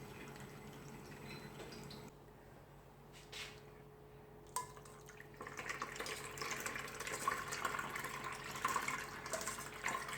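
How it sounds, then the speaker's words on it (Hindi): Cold water pours into a bowl of soaked, swollen sago pearls for a dessert, a faint trickling splash that starts partway through and continues quietly to the end. "अब इसमें थोड़ा सा ठंडा पानी ऐड करूँगी।"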